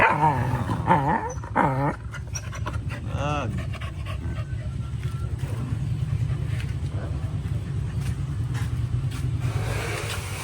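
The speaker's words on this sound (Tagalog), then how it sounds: "Yan ang aking mga aso." Pet dogs growl and scuffle close by, with harsh snarls and panting early on, then fade into a steady low rumble of noise as a person talks over them.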